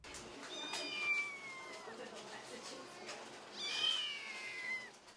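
Kittens meow repeatedly at a cat rescue and spay-neuter clinic in Fort Collins, high thin cries rising and falling in two clusters, with a quieter stretch between them, over a faint room murmur.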